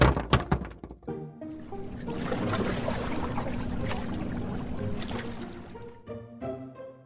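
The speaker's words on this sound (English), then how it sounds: "The boat began to fill with water." Cartoon sound effect of water pouring into a sinking fishing boat after it hits rocks, a steady rushing gush lasting several seconds, framed by a few knocks and thuds at the start and end.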